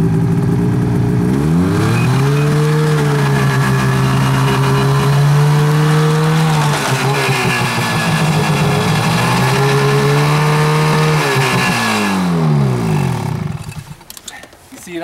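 A snowmobile engine drives up onto a homemade single cantilever-style sled deck. It runs loud and close as a steady roar for about twelve seconds, its pitch dipping and rising as the throttle changes, then cuts off abruptly near the end.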